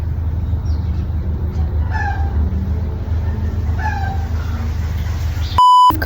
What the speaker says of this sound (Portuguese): Ficar uma galinha de fundo aí fazendo cococó.